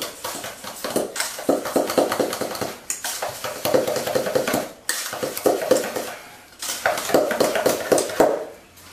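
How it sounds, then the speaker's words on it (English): Egg yolks beaten with sugar in a bowl for tiramisu, a whisk or fork clattering rapidly against the bowl in quick rhythmic strokes, with short pauses between three bursts, close and loud. "we'll put all the sugar in the yolk, and we'll beat them"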